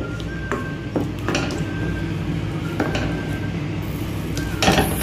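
A spoon clinks and scrapes against a pan while stirring yogurt-based paneer gravy, a few sharp metallic taps over a soft background, close and moderately quiet.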